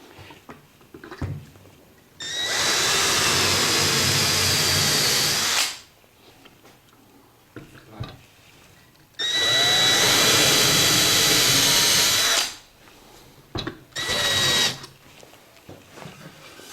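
A power drill bores into wood while a shop organizer is built, with a depth stop fitted to keep the bit from sinking too far. It runs in two long loud bursts and one short burst, with quiet handling between.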